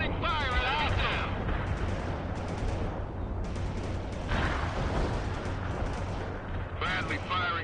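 Bradley fighting vehicle in the World in Conflict game firing from its position, a steady barrage of heavy gunfire and booms with radio-style voice chatter mixed over the battle noise.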